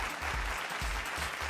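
Audience applause welcoming a 64-year-old farmer onto the stage at an agricultural awards ceremony, a steady wash of clapping filling the hall without pause, moderately loud and unbroken by any voices.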